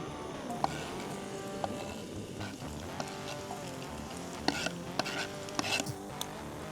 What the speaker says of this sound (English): And now we'll add garlic and chili into the pan.